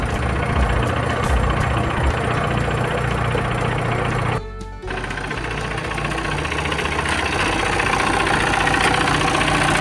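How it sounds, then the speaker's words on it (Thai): An Isuzu TFR pickup truck engine idles steadily with a low, rough rumble and rattle, close by, with a brief dip in the middle. "จะพาไปดูเครื่องยนต์"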